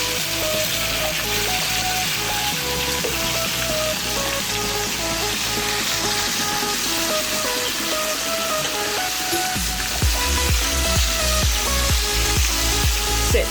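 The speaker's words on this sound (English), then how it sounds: "So, going to let the fish fry until it's brown on that side." Fish frying in a pot of very hot oil for Jamaican brown stew fish, a steady dense sizzle with crackling throughout that grows busier and more popping near the end, with no talk.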